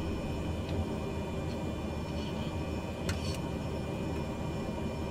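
An aircraft in Microsoft Flight Simulator 2020 takes off as a steady, broad engine roar and rushing noise that holds at an even level throughout.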